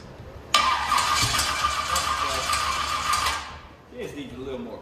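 A car engine fitted with an ATM carburetor starts abruptly and runs with a raspy roar for about three seconds, then fades out and stumbles with a rougher, lower sputter as it dies.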